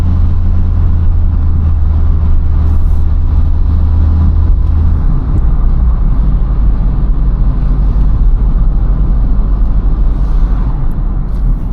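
Loud, steady drone of a 2013 Opel Corsa diesel pulling uphill on a winding Greek mountain road, with low engine rumble and road noise heard from inside the cabin and no talking.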